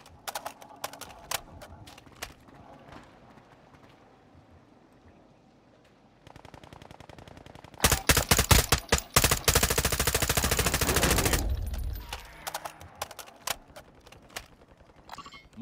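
Video game gunfire from Call of Duty: Modern Warfare III, with scattered sharp shots that build into a loud sustained automatic burst before trailing off into more isolated shots.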